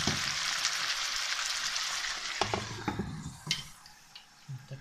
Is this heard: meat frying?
yes